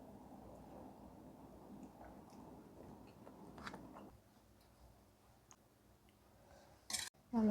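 Rice being chewed during a meal, close and faint: soft, irregular bites and mouth sounds that drop quieter midway, followed by a couple of sharper clicks at the end.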